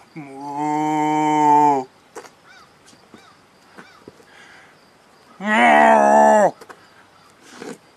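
A man imitates a cow with two loud, drawn-out moos, the first about two seconds long and the second shorter, separated by faint clicks and rustles.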